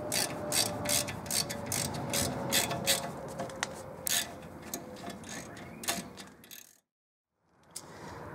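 A hand ratchet clicks in quick repeated strokes while tightening bolts on the disc brakes of a 1986 Chevy Blazer, close and crisp, pausing briefly before a final click.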